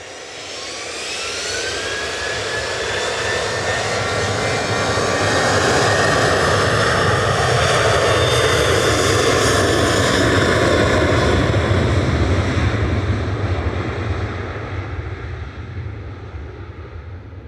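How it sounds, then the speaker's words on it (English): Ryanair jet airliner departing Manchester Airport for Verona, a loud, close engine roar that swells and holds with a rising whine before easing off as it moves away, with no voices. "And this is Ryanair 5476 to Verona"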